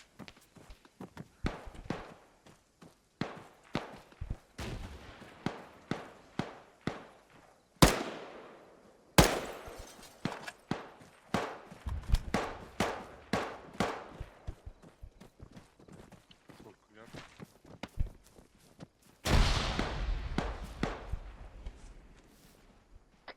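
Grenades explode in an ARMA 3 gameplay battle, with several sharp, booming blasts spread over about twenty seconds among rapid clattering gunfire and scattered smaller cracks.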